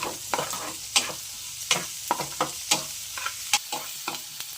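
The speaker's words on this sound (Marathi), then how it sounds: "कढीपत्ता लागला लसूण कांदा पूर्णपणे" Onion, curry leaves and garlic fry in a pan with a steady background sizzle, broken by repeated sharp scraping clicks from a spoon stirring at a brisk, irregular rhythm, close and alone.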